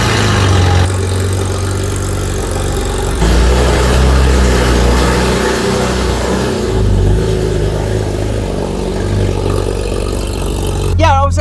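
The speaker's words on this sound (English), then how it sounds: "I was expecting that exhaust to make a noise, and then it still made me jump." A modified Porsche 911 SC idles with a deep low exhaust rumble, then blips and revs loudly a couple of times, with a sharp burst right at the end.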